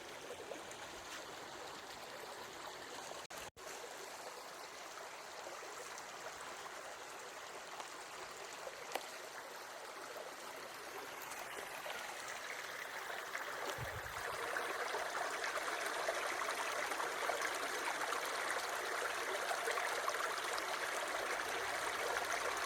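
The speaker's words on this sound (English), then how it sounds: "Beautiful little creek." A small creek flows and trickles steadily, a continuous soft wash of water that grows slightly fuller and brighter partway through, with no voices.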